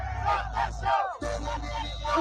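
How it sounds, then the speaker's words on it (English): A crowd chants together at a concert, heard as a played-back recording: a loud, continuous mass of voices with rhythmic swells and a brief dip partway through. "some people were chanting"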